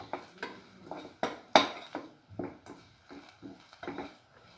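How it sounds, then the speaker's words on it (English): Curry leaves and red chili are sautéed in a pan, with a spoon scraping and knocking in a steady, repeated rhythm close up and one sharper clank partway through. "few curry leaves, saute it. Thoroughly saute it."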